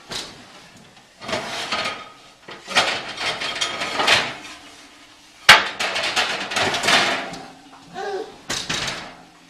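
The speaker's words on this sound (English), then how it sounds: "So we take our pizza stone, we put it on top of our peel" A 500-degree pizza stone taken from the oven and set on a wooden peel, heard as several loud, close clunks and knocks with scraping and handling noise, in separate bursts with pauses between.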